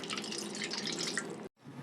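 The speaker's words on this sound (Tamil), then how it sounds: "இப்போ தண்ணி ஊற்றிக்கிறேன்" Water poured onto tamarind for a dried fish curry, a steady close splashing stream filling a vessel that cuts off abruptly near the end, followed by faint room noise.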